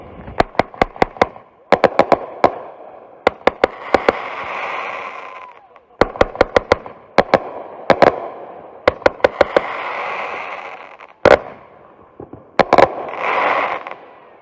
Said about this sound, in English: this is the Salute 12 shots Finale from TNT